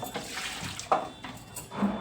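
Water runs while dishes are washed at home, an uneven splashing flow from a tap with brief louder gushes and small clinks, heard close and alone.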